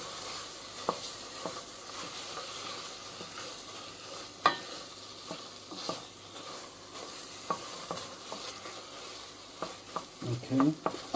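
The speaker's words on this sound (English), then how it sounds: "I'm going to take a wooden spoon to do this. Okay, and I'm just going to circulate it around." A wooden spoon stirs Coca-Cola ketchup with tomato puree in a hot pan, steady sizzling and bubbling broken by repeated scraping strokes, close and alone with no voices.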